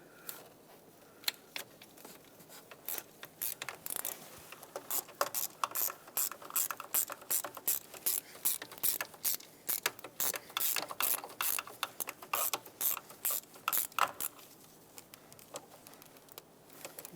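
A ratchet snugs up the valve cover bolts on a 2014-2020 Mazda 6. Quick clicking pawl bursts repeat in uneven runs for most of the stretch, close and fairly quiet.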